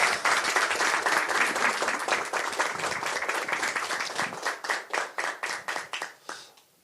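A crowd at a Democratic Party political rally in Incheon claps loudly in a dense burst that gradually thins to individual claps and fades out.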